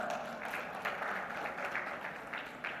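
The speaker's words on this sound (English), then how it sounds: "Big round of applause for Maurizio Constantin." Applause from an audience at a maritime industry conference panel, a soft, steady patter of clapping heard from a distance, fairly faint and continuous throughout.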